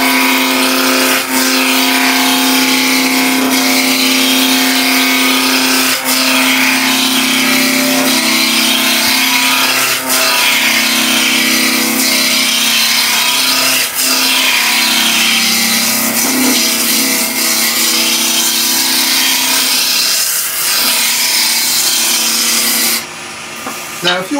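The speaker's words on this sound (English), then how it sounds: "So there, I'm running at 1900 revs." A wood lathe turns a piece of timber at 1900 rpm, giving a steady loud motor hum with a strong drone and faint rhythmic ticks from the spinning work that stays even throughout, then cuts off abruptly near the end.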